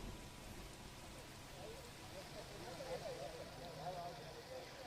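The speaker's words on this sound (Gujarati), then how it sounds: "સતત 2 દિવસથી રાજકોટ શહેરની અંદર વરસાદ છે તે વરસી રહ્યો છે" Heavy monsoon rain falls steadily on a city street in Rajkot during a Janmashtami fair day, a faint, continuous hiss of downpour heard at a distance.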